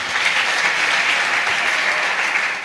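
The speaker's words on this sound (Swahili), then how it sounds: "Makofi kwa Bwana." Steady applause from a church congregation during a gospel meeting at Jerusalem Church, a dense even clatter of many hands that holds continuously for a few seconds.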